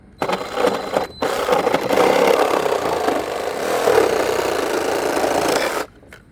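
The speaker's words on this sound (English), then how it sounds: "run your sawzall blade right by that board" A reciprocating saw cuts through pallet board in a steady, loud buzzing rattle that runs for several seconds, starting and stopping abruptly with short pauses.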